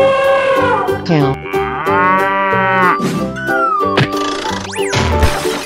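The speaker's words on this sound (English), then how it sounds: "Cow." A cow moos loudly in a long, drawn-out call with a falling pitch, heard close and alone, with a brief high squeak near the end.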